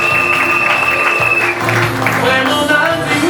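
Wedding guests clap and cheer in a crowded hall, a short burst of applause mixed with voices and music, loud and close.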